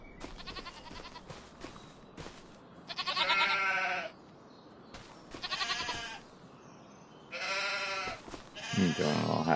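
Baby goat bleating in Farming Simulator 25, a run of close, loud, quavering bleats in several bursts with short gaps between calls.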